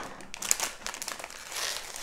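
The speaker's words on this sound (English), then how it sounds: "let's open this up. I got the fierce zebra scissors with me." Scissors snip open a LEGO Movie 2 Mini Master Building Emmet polybag, with close, loud plastic crinkling and rustling in irregular bursts throughout.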